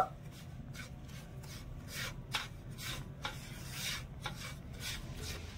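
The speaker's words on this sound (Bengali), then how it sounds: "এবারে কড়াই নিয়ে নেব। এবারে গ্যাসের আঁচটা একদম হালকা রেখে নেড়ে ছেড়ে একটু ভেজে নেব।" Semolina dry-roasts over a very low gas flame in a kadai, stirred with soft, rhythmic scraping and rubbing strokes against the pan, close and fairly quiet.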